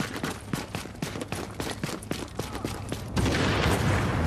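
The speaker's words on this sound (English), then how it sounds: "This one guy's gun is like unbelievably strong." Gunfire in the shooter game The Division, rapid repeated shots in bursts over a dense battle din, ending in a louder continuous barrage, with no voices.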